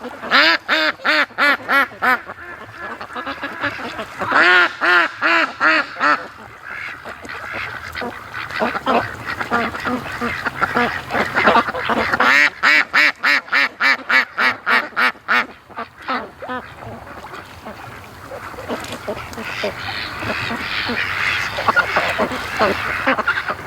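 A flock of free-range ducks, many of them males, quacks and honks near a lake in a loud, continuous chorus of rapid, overlapping calls.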